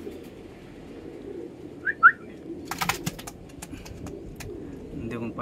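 Golden Eyes pigeons in a cage, a pair of young male and female birds, giving two short soft coos close by, followed by a burst of rustling and fluttering clatter against low background hum.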